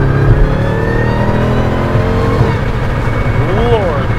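A 2018 Jeep Cherokee Trackhawk's engine pulls hard under acceleration, a loud sustained roar with rising harmonics heard from inside the cabin, with a voice exclaiming briefly near the end.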